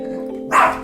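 A single short dog bark rings out close by after a brief stretch of low humming background.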